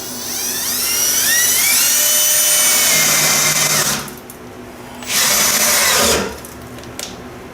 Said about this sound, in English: Let me go get a drill bit. So we're going to add a hole right here in the middle